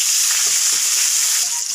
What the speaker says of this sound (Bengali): পেঁয়াজ লাল লাল করে ভেজে নিচ্ছি